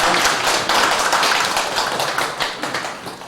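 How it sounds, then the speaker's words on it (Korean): A church congregation claps together at an Easter service, a dense, steady patter of applause that fades slightly toward the end. "우리 사랑의 박수 한번 하겠습니다."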